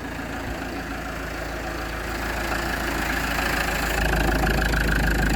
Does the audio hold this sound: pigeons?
no